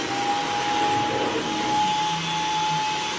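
A rechargeable vacuum cleaner with a soft brush runs continuously, a loud, steady whine with a constant high tone and no pauses.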